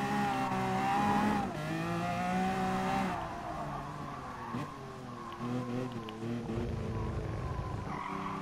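Race car in the Gran Turismo Sport midship challenge revving and accelerating with a rising, whining engine tone that shifts pitch through gear changes and corners, mixed with tire squeal, loud and continuous without talk.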